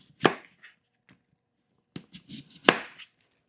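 A knife slicing apples into thin slices on a cutting board, a few sharp close chopping thuds spaced apart, with soft scraping between cuts and no talk.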